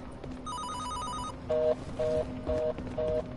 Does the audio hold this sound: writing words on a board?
no